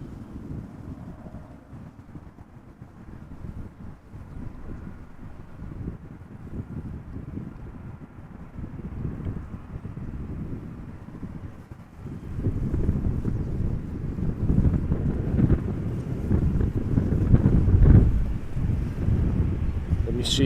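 Gusty wind buffets a microphone outdoors at Amsterdam Schiphol Airport, a low rumbling roar that grows louder and rougher in the second half. A voice is faintly present in places.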